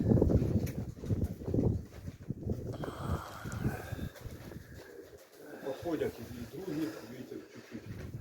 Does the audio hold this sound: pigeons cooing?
yes